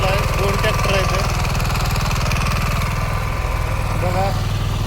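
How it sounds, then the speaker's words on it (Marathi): A tractor digging in a banana field runs as a loud, steady, throbbing engine drone, with a person talking over it. "ट्रॅक्टर बी खांदायचं चालू आहे"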